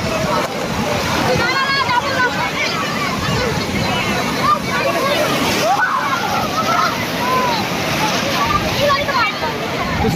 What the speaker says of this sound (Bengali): সমুদ্রে খালি গর্জনটা দেখো, আর তার সঙ্গে ঝোড়ো হাওয়া আর বৃষ্টি ঝিরিঝিরি